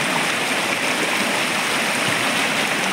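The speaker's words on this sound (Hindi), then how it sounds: "पानी का बहाव बहुत तेज है गाइस।" Fast-flowing stream near a waterfall in dense jungle, a steady loud broadband rush of water that fills the whole clip without pause, close by, with no voices.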